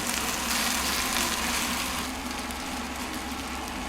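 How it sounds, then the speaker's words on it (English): Hash browns fry in a pan, giving a steady, even sizzle close by that continues throughout without pauses, with a low hum underneath. "you just want to brown them on one side and then go ahead and flip them over"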